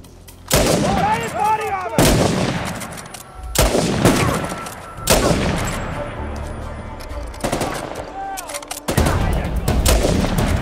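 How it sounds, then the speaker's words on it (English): Shotgun gunfire in the video game Uncharted 4: loud, repeated blasts roughly every couple of seconds, each a sharp boom with a ringing tail, with some in-game voices between the shots. "He's got a shotgun."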